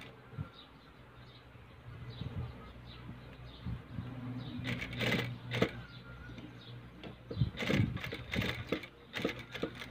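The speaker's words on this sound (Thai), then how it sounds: "แล้วก็เย็บนะคะ" A sewing machine stitches a cloth face mask with a filter pocket and elastic ear loops. It runs as a steady low hum, joined later by louder clattering bursts near the end.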